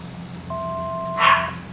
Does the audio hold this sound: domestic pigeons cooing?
no